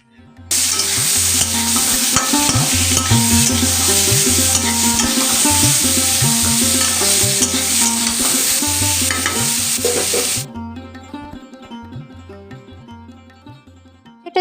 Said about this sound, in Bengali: এবার আমি হলুদ দিয়ে দিচ্ছি আর হলুদ আর নুন দিয়ে ভালো করে ভেজে নিচ্ছি